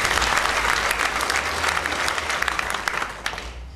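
A stand-up comedy audience applauds in answer to a show-of-hands question. It is a full, continuous burst of many people clapping at close range that fades slightly toward the end.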